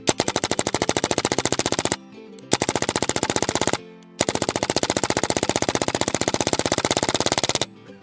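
An SMG 22 pellet gun fires rapid automatic bursts of pellets at a container of cheese balls, three long, loud, close strings of evenly spaced shots separated by short pauses.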